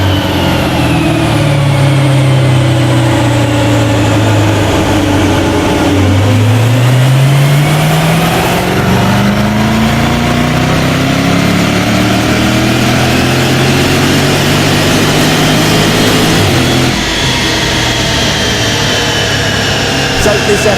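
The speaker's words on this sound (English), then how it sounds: "It's time to get this strapped back down to our dyno to find out what all those upgrades have added up to" A tuned Jaguar F-Type with Predator upgrades revs on a dyno, its engine note droning loud and close, sweeping down then climbing steadily through the rev range, with a brief dip near the end.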